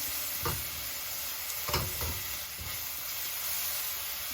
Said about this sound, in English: So I'm just gonna wait for that to saute down.